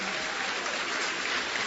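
Audience applause at a town hall meeting on Kauai, a dense, steady wash of clapping filling the short moment without a break or audible voices.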